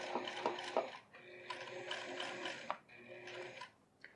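A sewing machine runs a top stitch under the welt of men's trousers, a steady mechanical whir with a few sharp clicks, pausing and restarting in short bursts, close up with no talking.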